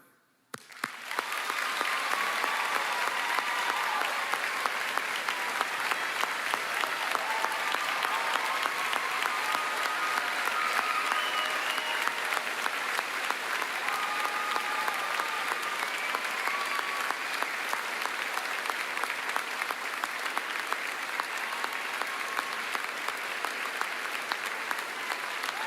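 Long, sustained applause from a large audience at a national championship showcase, starting after a short silence and holding dense and steady for over twenty seconds with faint crowd murmur underneath.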